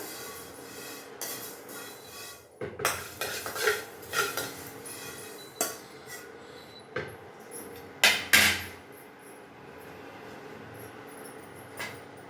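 Fenugreek seeds dry-roast in a pan, giving a soft background hiss as the spoon scrapes and clanks against the metal in irregular bursts, with a few louder knocks and no talking.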